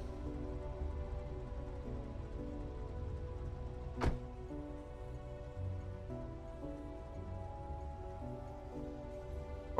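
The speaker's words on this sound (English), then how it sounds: "Rain." Soft, steady rain patter falls in the video game Factorio, a constant hiss under low tonal game sounds, with one sharp click partway through.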